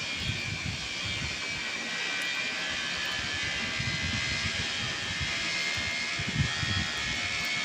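A motorcycle in the Traffic Rider video game drives at speed with a steady, loud, unbroken engine roar and wind-like hiss that stays constant throughout, without any voices.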